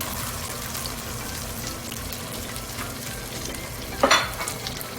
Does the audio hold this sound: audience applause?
no